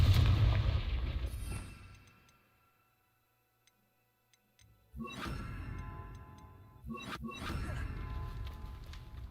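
Confringo blasting spells in Hogwarts Legacy go off as loud booming explosions, with a heavy blast that fades into near silence, then a sharp burst and further rumbling blasts in quick succession.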